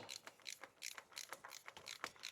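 A torque wrench tightening the oil filter housing cap on a Lexus GX460 to spec, giving a close, quiet series of quick ratcheting clicks in an uneven rhythm.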